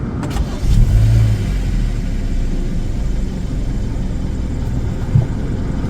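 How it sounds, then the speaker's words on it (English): A 2015 Kia Optima EX engine turns over from a push-button start, then settles into a steady, loud idle rumble. "to start the engine, put your foot on the brake,"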